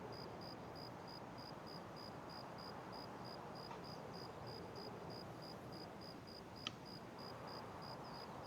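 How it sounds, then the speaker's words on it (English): Crickets chirp in a steady, evenly pulsed high trill over a soft ambient hiss inside the video game Escape from Tarkov, faint and continuous with one brief click near the end. "I hear crickets chirping."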